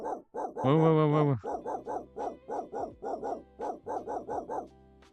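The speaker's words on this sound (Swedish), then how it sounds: "det var en hund." A dog in the video game Wrap House Simulator barks in a rapid, evenly spaced series of loud yaps, with a sustained tone and a man's brief exclamation near the start.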